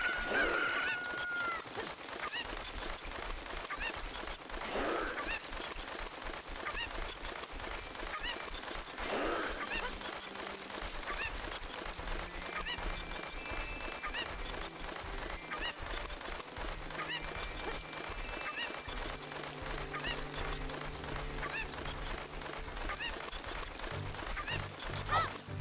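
A cucco chicken in The Legend of Zelda: Ocarina of Time, played on the Ship of Harkinian PC port, gives repeated honking clucks over continuous game music and effects for nearly half a minute.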